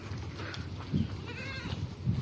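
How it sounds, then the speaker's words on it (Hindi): Goats on a farmhouse in Al Ain, United Arab Emirates, give a few bleats amid steady farm background noise, moderately close, one wavering call standing out in the middle. "ये बकरी है,"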